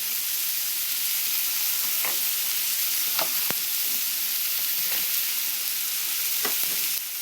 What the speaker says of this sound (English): So I'm just going to saute it kind of like a sofrito.